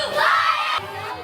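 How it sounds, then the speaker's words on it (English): Crowd of elementary students cheering at a school event, a burst of high excited shouts and whoops that swells and then eases, fairly close. "And the crowd was going wild."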